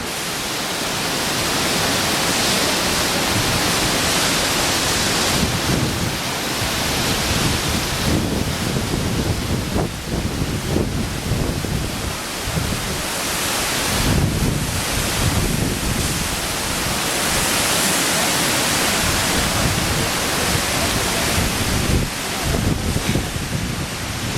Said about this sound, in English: now I'm going to flip the camera and show you the waterfall